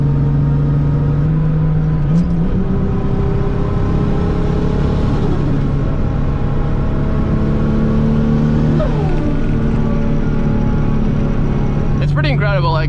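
A Nissan 300ZX with a swapped 2JZ-GTE engine pulls away and climbs through the revs from inside the car, a steady rumbling drone with rising pitch sweeps, while people talk over it.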